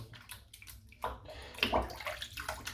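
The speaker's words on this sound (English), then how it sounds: "Just dipping the bowl, dipping the soap into the water, letting it fill up with water" Shaving soap in its bowl dipped into water and left to fill, with soft sloshing and gurgling splashes close up, a couple of louder dips amid quiet trickling, no voices.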